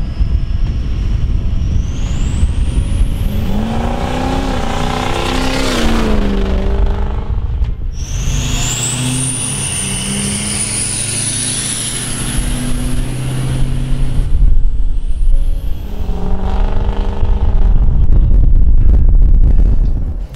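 A turbocharged diesel school bus, built to 500 hp and 30 psi of boost, accelerating hard at full throttle; a loud, continuous engine roar with rising pitch sweeps and a shift partway through, close to the microphone.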